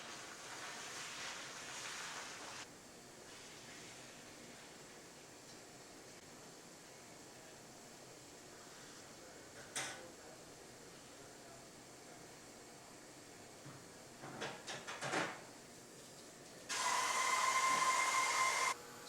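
A hot cast gold jewelry mold being quenched in water gives a sustained hiss and bubbling rush that eases off, followed by a few splashy bursts and then a loud, broad rush near the end.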